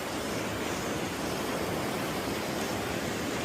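A loud, constant roar of a strong rushing river, broad and unbroken throughout, with no talking.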